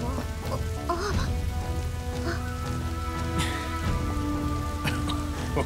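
Steady rain falls continuously in the video game Dynasty Warriors 8 Xtreme Legends, a loud, even downpour spread across the whole stretch, with faint tonal game sounds and brief calls mixed in beneath it.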